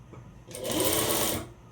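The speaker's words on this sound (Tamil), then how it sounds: "இதில் நான் அப்படியே வச்சு அந்த 1/4 இன்ச்சுக்கு தைக்கிறேன்." A sewing machine runs in one short, steady burst of whirring, stitching a quarter-inch seam on a one-piece umbrella frock, close up with no talking.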